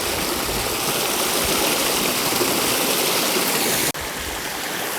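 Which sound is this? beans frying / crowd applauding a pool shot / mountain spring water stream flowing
mountain spring water stream flowing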